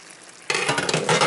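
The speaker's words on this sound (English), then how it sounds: "Stir it one more time." Vegetables for Russian borscht are stirred in a cooking pot, a quiet lull giving way to a loud, close rush of scraping and sizzling as the spoon turns them.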